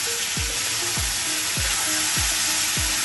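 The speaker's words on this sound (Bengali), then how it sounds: "ভালো করে নেড়ে নিই।" Potato and soybean curry fries in a pan, giving a constant hissing sizzle under regular, evenly spaced scrapes of a spoon stirring the pan, close and fairly loud.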